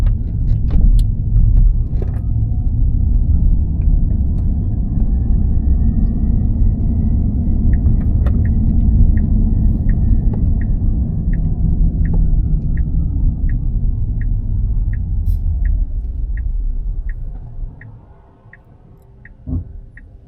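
Tesla Cybertruck running Full Self-Driving 13.2.1 on a road, a loud steady low rumble of road and tire noise from inside the cabin with a rhythmic ticking turn signal, the rumble fading as the truck slows to a stop near the end.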